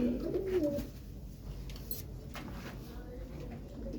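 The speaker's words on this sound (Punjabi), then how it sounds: "ਚਿੱਟੀਆਂ ਅੱਖਾਂ ਦਾ ਕਬੂਤਰਾ" A white-eyed pigeon coos softly and low, close by, against a steady background murmur with faint voices.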